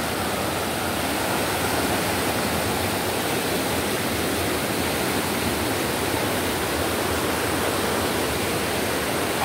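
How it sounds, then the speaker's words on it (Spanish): A sudden flood surge on a river sends a steady, loud roar of rushing water that fills the whole stretch without pause, close and unbroken. "Esta es una creciente de golpe, miren."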